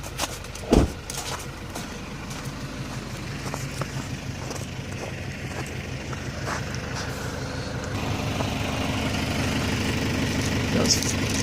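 A tractor engine idles on a snowy day with a steady low rumble that grows slightly louder, and a person talks briefly over it near the start.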